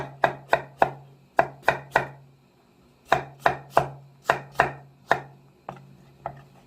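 A knife chopping radish on a board for Korean shrimp soup, two bursts of sharp, evenly spaced thuds, close and loud, with a short pause between them and no talk.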